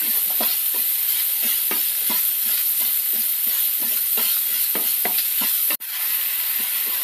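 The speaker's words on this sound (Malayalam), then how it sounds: "സവാളയൊന്ന് നന്നായിട്ട് വാടണം" Sliced onions sautéing in hot oil in a pan, a steady loud sizzle with frequent scraping stirs, briefly cut off near the end before the frying resumes.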